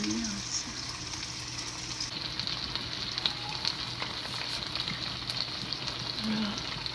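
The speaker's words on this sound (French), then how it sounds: "D'abord, pour que la tomate frit." Tomato frying in a pan for attiéké with fish, a steady broadband sizzle running the whole time at moderate level, with faint kitchen stirring noises underneath.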